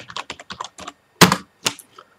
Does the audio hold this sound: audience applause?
no